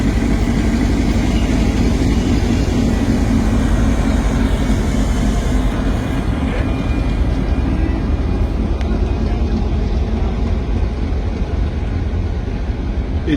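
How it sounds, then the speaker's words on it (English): A long freight train of 30 wagons carrying 20- and 40-foot containers on its first run from Apapa Port to the Ibadan Dry Port, rumbling steadily and loudly nearby with a continuous low drone. "It is indeed a very lengthy train,"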